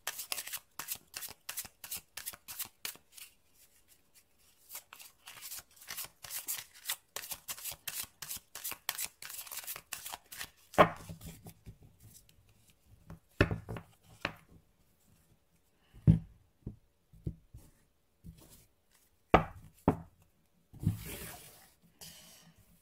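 Tarot cards shuffled in steady rapid riffles, then drawn and laid down one by one as separate sharp flicks and slaps with pauses between, close and fairly quiet, with no voices.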